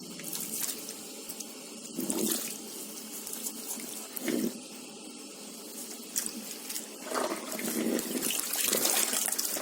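Water runs from a tap in a salon sink while hair is rinsed after a tannin straightening treatment, a steady splashing stream with surges of heavier splashing, close and without talk.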